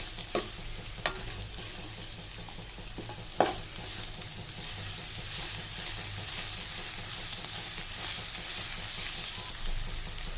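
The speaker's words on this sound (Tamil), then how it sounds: "இதுக்கு ரெண்டு மீடியம் சைஸ் வெங்காயம் போட்டுக்கலாம் வதக்கிறதுக்கு இது நல்லா வதங்கட்டும்" Two medium onions sauté in a pan for Chettinad chicken kuzhambu, a steady sizzle and frying hiss running throughout, with occasional sharp scrapes and clinks of stirring near the start and middle.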